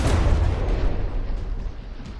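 Artillery shells hitting a warship in the naval combat game From the Depths, a loud deep explosive boom at the start fading into a rumbling crackle of blasts.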